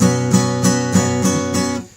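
Suspended guitar chord strummed six times in a steady rhythm, bright and close, the last strum fading out alone.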